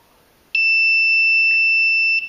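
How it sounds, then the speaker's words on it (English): A quadcopter with its propellers removed gives a single long electronic beep as it arms, a loud steady tone that starts abruptly and holds for nearly two seconds in an otherwise quiet space. "Okay, that beep was it."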